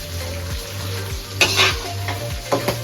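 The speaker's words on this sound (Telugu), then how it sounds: "పచ్చిమిర్చి వేసిన తర్వాత నూనెలో పట్టపట్ట ఎగురుతుంది కాబట్టి మూత మూసుకోవాలి" Green chillies fry and splutter in hot oil for gongura pachadi, a steady close sizzle punctuated by sharp spatters and a few clinks of a spoon against the pan.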